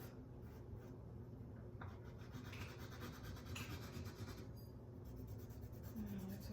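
Chalk rubbing and scratching across a board while shading, soft continuous scraping strokes at close range, very quiet overall.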